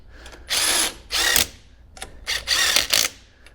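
An impact wrench fastens wheel nuts on a kei truck in a garage, giving several loud, close rattling bursts of under a second each, separated by short pauses.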